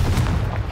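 A Confringo fire spell explodes in Hogwarts Legacy, a brief heavy low boom filling the whole moment, loud and close with no other sound.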